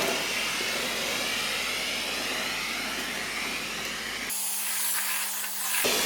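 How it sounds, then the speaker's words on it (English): A floor steamer hisses continuously at close range, a steady rushing steam noise that holds for several seconds, then drops back briefly to a thinner hiss before swelling again. "it's really steaming."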